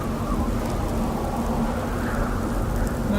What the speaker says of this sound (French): Tempête.